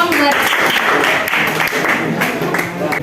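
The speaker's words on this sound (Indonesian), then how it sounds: "Berikan tepuk tangan dong." A classroom full of students claps for a group that has just finished presenting, a steady patter of applause lasting a few seconds while a voice talks over it.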